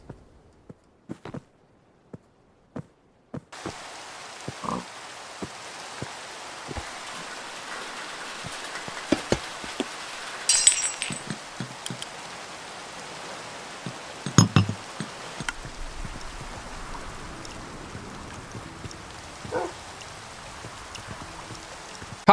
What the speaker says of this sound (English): Cool Rain is a mod that improves rain noises